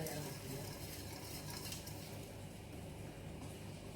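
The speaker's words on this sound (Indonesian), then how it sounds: "Kemudian kita masukkan tepung terigunya." Wheat flour being stirred into cake batter for a chocolate chiffon cake, a soft steady swishing and scraping close by, faint and continuous with no talk.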